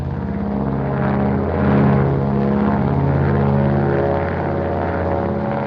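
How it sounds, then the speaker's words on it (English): Steady, loud drone of a propeller plane climbing under radio control, an even engine roar with a slight swell near the middle and no talk over it. "Look at that plane climb."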